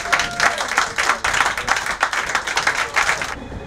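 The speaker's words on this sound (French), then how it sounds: "est-ce qu'on peut acclamer notre Seigneur?" Ivorian Christian pilgrims in the Holy Land burst into sustained, dense applause, a steady crowd of clapping hands that runs nearly throughout before breaking off abruptly near the end.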